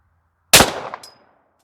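A single loud, close shot from a Girsan MC 1911 Hunter 10mm pistol fired at a range cracks sharply after a quiet lead-in, then rings out and fades over about a second.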